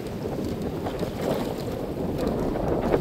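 Strong wind roars across the microphone during a river crossing by boat against heavy current, a loud steady rushing buffet with water noise underneath and gusts swelling toward the end.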